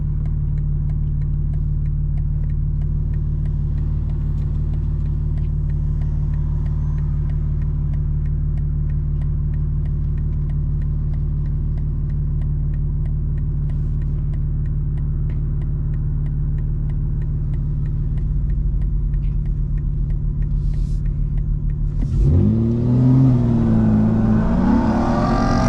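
A 2025 BMW M4 Competition, unlocked and tuned, cruises in rear-wheel-drive mode with a steady, loud low engine drone, heard from the cabin, then the revs rise sharply near the end.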